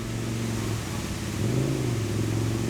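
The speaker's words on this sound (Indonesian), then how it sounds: "Sependengaran gue tuh masih gigi satu terus, nggak berubah-berubah." A manual-clutch motorcycle engine held in first gear while a beginner rider learns to shift, droning steadily close by, then rising in pitch as it revs briefly before settling back.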